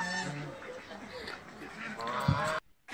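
Chinese geese on a small farm honk a few times, once at the start and again near the end, while someone talks over them before a brief silence.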